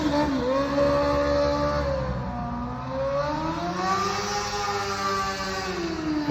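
A Honda Hurricane motorcycle engine revs and accelerates down a street, its strong droning tone rising and falling in pitch as the throttle opens and eases, loud and steady for several seconds with no talking.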